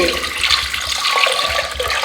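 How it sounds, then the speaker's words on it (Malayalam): Water gushing steadily into a pot, a continuous splashing pour at close range. "ഇതിലേക്ക് വെള്ളം ഒഴിക്കുക"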